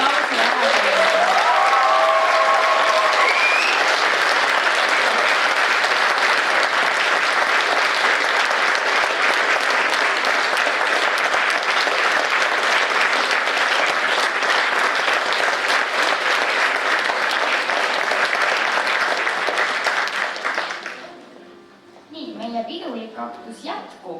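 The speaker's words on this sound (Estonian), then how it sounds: "ma arvan, et on ääretult suure aplausi ära teile." Sustained applause from a seated audience at a school graduation ceremony, loud and steady for about twenty seconds before fading out, with brief talk audible near the end.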